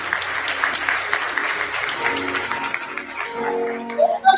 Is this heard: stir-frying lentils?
no